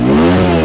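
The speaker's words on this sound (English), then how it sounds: "Let's rev the motorcycle." A motorcycle engine revs in one brief, loud, close burst with a steady rough tone and no talk.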